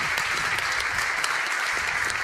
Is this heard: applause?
yes